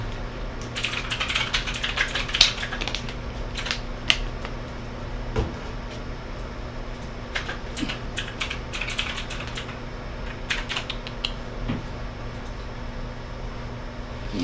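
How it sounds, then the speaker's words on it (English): Steady keyboard typing with scattered clacky keystrokes and occasional louder taps, close up over a low constant hum, no voices. "as soon as you start typing on that keyboard, it peaked out"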